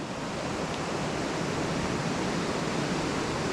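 Continuous rushing of a river and waterfall at Stichill, a dense, even hiss of falling water heard close and alone without any break or change in level.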